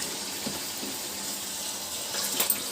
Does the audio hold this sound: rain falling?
no